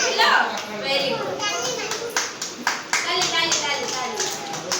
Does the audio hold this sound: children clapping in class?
yes